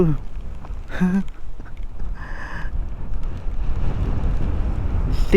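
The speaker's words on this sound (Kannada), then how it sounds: "ಓ ಗಾಳಿ ನನ್ನನ್ನೇ ಹಾರಿಸ್ತಾ ಇದೆ ಗುರು" Strong wind buffets the microphone on a misty green hilltop during the rainy season, a continuous low rumbling roar with a few brief faint sounds over it.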